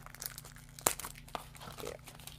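Ribbon ripped by hand while making a Christmas elf teardrop swag: one sharp, close tearing rasp near the start, followed by softer crinkling rustles against a quiet background.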